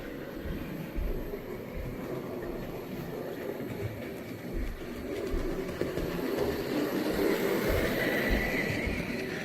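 A Bachmann model locomotive fitted with a Digitrax DCC sound decoder runs past with steady rolling rail clatter and a busy low rumble, growing slightly louder toward the end, with no talking.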